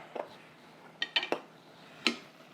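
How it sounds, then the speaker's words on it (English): A utensil stirring meat with onion and carrots in a pan, giving a few sharp scrapes and clinks spaced irregularly, close and fairly quiet with no talking. "And then what you're going to do is give that a quick stir."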